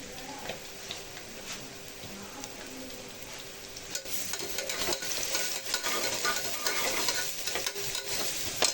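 Onion with ginger-garlic paste sautéing in oil, a soft, close sizzle with scraping stir strokes that grow busier and louder in the second half.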